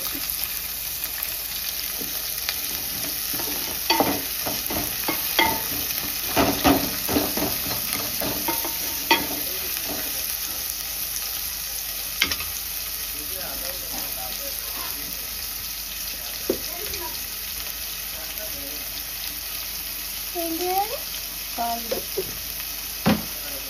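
Onions frying in a pan for egg curry crackle in a continuous hiss, broken by repeated clinks and scrapes of a spoon stirring and occasional faint background voices.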